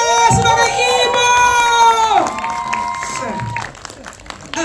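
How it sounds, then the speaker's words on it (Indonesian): Indonesian film-launch audience applauds and cheers an actor, a loud burst of clapping and whoops with high shouts, fading after a couple of seconds into scattered claps. "Beri tepuk tangan yang meriah untuk Arif Brata sebagai ibu."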